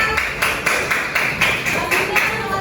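Students in a classroom clap in short, regular bursts, about eight or nine bright, close claps spaced roughly evenly over a couple of seconds, fairly loud.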